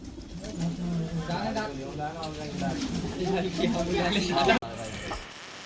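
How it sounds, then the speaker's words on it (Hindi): A Kabuli black Chinese pigeon landing at dusk by scattered grain, giving soft, repeated throaty coos, with a person talking alongside. "ये देखो अब उतर के हमारा काबली काला चीनी कबूतर"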